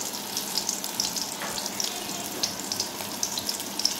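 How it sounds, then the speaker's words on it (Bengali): Large potatoes fry in kerosene oil, giving a steady bubbling sizzle with scattered sharp pops and crackles throughout, fairly close and moderate in level. "আমার আম্মুই তো কেরোসিন তেলে বড় বড় বড় বড় আলু ভাজে নিতেছে"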